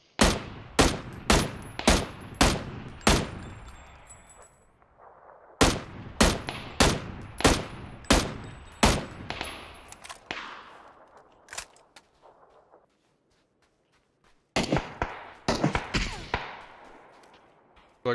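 Gunfire in PUBG, with sharp shots in rapid bursts of about five or six, each followed by a short echoing tail, then pauses and another burst near the end, loud and close with no talk.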